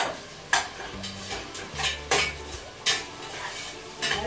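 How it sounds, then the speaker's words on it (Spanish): Onion and tomato sautéing in a pan for potaje murciano, a low sizzle broken by repeated spatula scrapes and clinks against the pan at an uneven rhythm, close and without speech. "pondremos el tomate y sofreiremos aquí la cebolla con el tomate"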